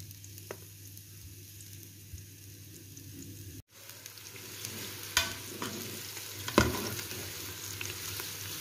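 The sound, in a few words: onions sautéing in ghee in a Noxxa pressure cooker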